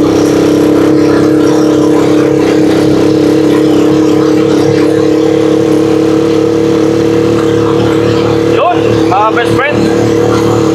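A Rusi Chariot 175 motorcycle labors up a steep road in second gear, its engine holding a steady, loud drone throughout with brief gear or throttle changes near the end.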